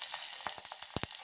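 Curry leaves, crushed garlic and mustard seeds hitting hot oil, giving a brief bright sizzle with quick popping crackles up close.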